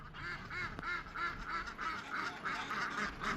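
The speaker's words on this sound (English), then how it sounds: "I'm gonna let Mumbles and the ducks out so they can see what's been going on." Several ducks quack repeatedly as they are let out toward a pond on a small farm, the busy, overlapping calls close by and continuous with a goose-like honk mixed in.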